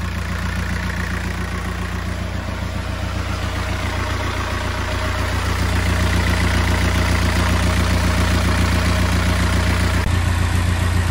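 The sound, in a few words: boat engine running after alternator repair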